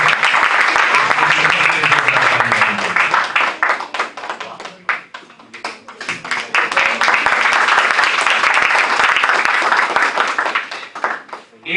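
A hall audience claps for Shekhar, the winner of a youth day event, in loud continuous applause that dips briefly midway, then swells again and carries on to the end, with no talking over it.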